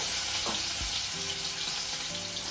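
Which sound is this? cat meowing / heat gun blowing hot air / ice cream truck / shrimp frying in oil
shrimp frying in oil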